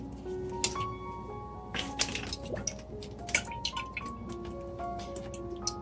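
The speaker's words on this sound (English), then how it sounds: "I can pour the marinade" Marinade poured into a plastic freezer bag for lamb chops, giving a run of wet drips, squishes and liquid glugs, close and moderately loud, with soft clicks scattered through.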